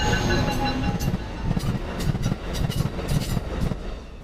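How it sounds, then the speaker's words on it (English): A Metrolink commuter train rumbles steadily past close by near San Diego, its wheels clacking rhythmically over the rails under a loud, continuous roar. "There go one of the trains that I could have taken"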